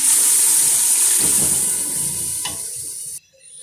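Water poured into a hot pot of chicken for soup stock, giving a loud steady sizzling, rushing pour that eases off and then cuts out abruptly near the end.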